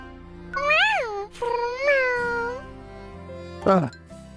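A person imitates a kitten with two long, high, wavering meows followed by a shorter squeaky one, close and clear, with no other talk.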